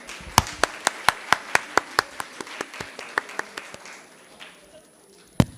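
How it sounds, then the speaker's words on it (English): Steady, evenly spaced hand claps at a design thinking festival in Gurgaon, about a dozen crisp claps tapering off, then a single late clap; fairly close and moderately loud. "Can we have a huge round of applause for ma'am?"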